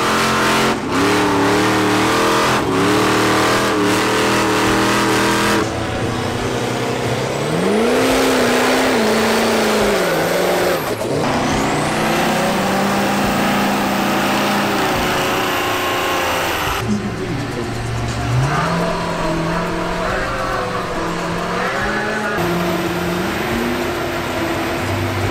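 Powerful heavy vehicle engines rev and strain while pulling and pushing, a loud continuous roar with rising and falling pitch swells, persistent throughout.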